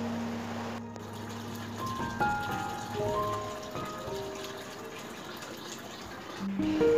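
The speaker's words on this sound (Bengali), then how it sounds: "এবার আমি তুলসী মন্দিরে জল দেবো, মানে তুলসী গাছে যে টবের মধ্যে তুলসী গাছ লাগিয়েছি তাতে আমি জল দেবো।" Water poured from a vessel onto a potted tulsi plant, a soft steady splashing and trickling that runs for several seconds at close range, with faint tonal sounds in the background.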